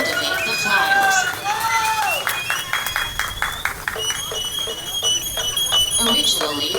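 Crowd applause and cheering for the Danza de los Voladores flyers performing in Costa Maya, Mexico, a steady, dense clapping wash, mixed with crowd voices and faint whistles throughout.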